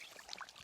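Dirty water pours into a container at a mountain campsite during SUV camping, giving a short, steady splashing trickle with no voices.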